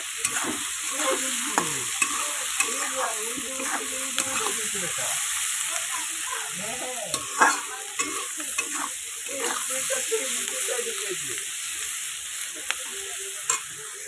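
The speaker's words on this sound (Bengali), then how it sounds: "এবার এই সবজিটাকে আমি সুন্দর করে নেড়ে দেবো" Vegetables sprinkled with cumin powder sizzle steadily in a hot pan while a utensil scrapes and stirs them in repeated strokes, close up, with occasional louder clinks.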